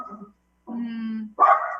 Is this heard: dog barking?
yes